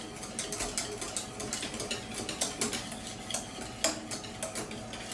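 A spoon stirs an eggnog mixture as it cooks in a pot, making quiet, rapid scraping and clinking strokes in a steady repeating rhythm, close by, with no voices.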